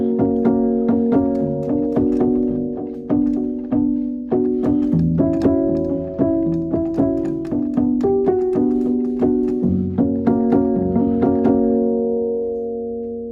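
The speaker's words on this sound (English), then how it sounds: "Now this is the sponge piano" A sampled Kramer upright piano plays a slow, gentle passage of struck chords and single notes, each ringing and decaying softly, close and clear with no voices, the last chord fading out.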